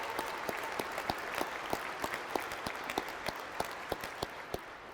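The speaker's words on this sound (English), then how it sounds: "Give yourselves a great round of applause." An audience at a law school commencement ceremony claps, a dense wash of many hands with sharper individual claps popping through, sustained and steady across the whole stretch.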